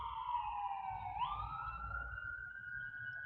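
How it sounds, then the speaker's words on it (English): A distant ambulance siren wails steadily, its pitch sliding and shifting as it passes, over a low background rumble. "It's the ambulance."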